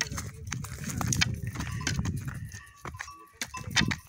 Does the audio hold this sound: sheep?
yes